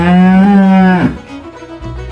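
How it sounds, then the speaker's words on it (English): A cow gives one loud, close, drawn-out moo that ends abruptly, followed by a quieter, lower lowing sound. "The cow says moo."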